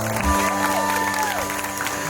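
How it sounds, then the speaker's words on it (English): Wedding reception guests applaud the newlyweds after their first dance, a dense, continuous wash of clapping with sustained music tones ringing underneath and no voices standing out. "Big round of applause once again for Mr. and Mrs. Lee"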